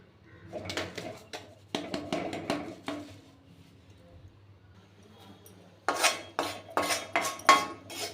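Rice flour dry-roasting in a metal pan for poorana kozhukattai, stirred with a metal spoon: bursts of scraping clinks and taps, a quiet pause in the middle, then a livelier run of scrapes, close and clear.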